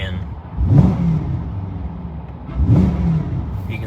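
A 2025 Corvette C8 engine set to touring mode gives two moderate revs about two seconds apart, each rising and settling back to a steady idle hum, with a voice speaking over it.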